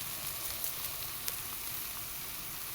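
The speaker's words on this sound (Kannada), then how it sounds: "ಇದನ್ನು ಚೆನ್ನಾಗಿ ಫ್ರೈ ಮಾಡ್ಕೊಳ್ಳೋಣ" Tomato and Maggi masala fry in a pan with a steady, even sizzle and a few faint crackles, heard close and alone.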